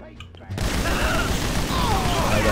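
Gunfire and explosions in GTA V during a Cayo Perico heist mission, a sudden loud burst of booming shots that starts after a brief quiet and continues as a dense, close fusillade to the end.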